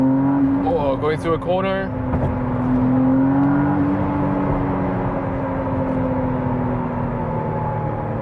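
A hybrid McLaren Artura sports car in sport mode accelerates hard, its engine drone holding steady and loud with a slowly rising pitch, while a person talks over it near the start.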